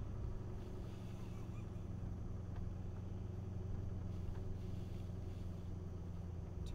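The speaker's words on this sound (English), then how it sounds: "Two-wheel drive, just going right through it." A two-wheel-drive car pushes through deep snow on a gravel road, giving a steady, muffled engine rumble with faint crunching and no letup.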